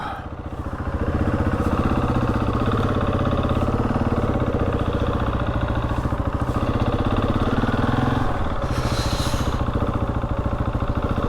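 Husqvarna 701 motorcycle engine running as the bike sets off, a steady close thumping drone with a brief rise and dip in pitch partway through, continuous throughout.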